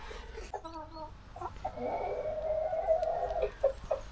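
Hens on a farm cluck and call in short bursts, with one sustained squawking run through the middle, close and clear over a faint outdoor background.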